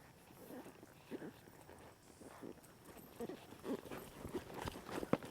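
Horse hooves clip-clop on dirt during cutting horse practice, irregular soft thuds at a moderate distance scattered through the clip against a faint outdoor background.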